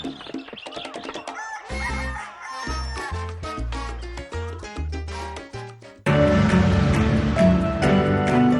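A rooster crows several times, loud and close, mixed with a musical jingle in a television program promo, before fuller music takes over near the end; no one speaks.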